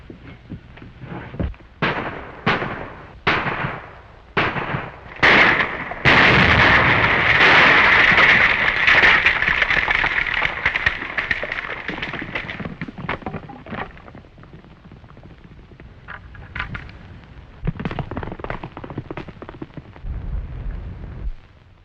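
Dynamite blasts in a 1937 Western film: a run of sharp booming bursts in quick succession, then a long loud roaring rumble that fades, with further scattered blasts near the end.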